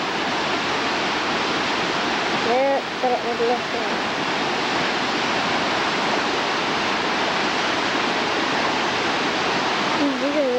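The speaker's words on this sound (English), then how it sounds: "It's a beautiful waterfall." A snowy, partly iced waterfall flows as a steady, moderate rush of water, continuous throughout, with brief voices speaking over it early on and again near the end.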